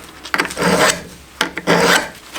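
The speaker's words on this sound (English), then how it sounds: "There's no room to properly file, you know, that's what's taking it so long." A metal file rasps against a seized brake bleeder valve in a cramped spot, with two long scraping strokes separated by a brief pause, close and fairly loud.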